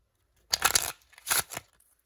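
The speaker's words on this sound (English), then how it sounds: "I'm going to go ahead and shuffle those real quick." A deck of cards is riffle-shuffled twice up close, each a crisp rapid flutter of cards followed by a short pause.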